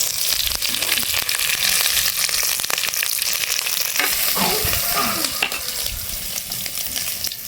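Garlic, onion and dried chillies fry in hot oil for a bottle gourd chutney, a steady close sizzle with occasional stirring scrapes throughout.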